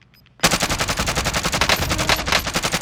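Rapid automatic gunfire in Warzone erupts after a brief quiet moment, then continues as a loud, sustained, rhythmic burst of shots with no talking.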